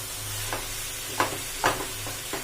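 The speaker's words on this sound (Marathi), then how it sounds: "आता हे मिश्रण आपण छान असं परतून घेणार आहे" Garden cress seeds and jaggery sautéed in ghee, stirred in a pan with a steady low sizzle and a few sharp scraping strokes of the spoon spaced about half a second apart.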